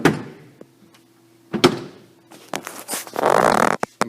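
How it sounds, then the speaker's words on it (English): Cabinet doors on a router table swing shut with a couple of distinct wooden thunks, close and fairly loud, separated by brief pauses and a short rustle. "The next step is to close the doors"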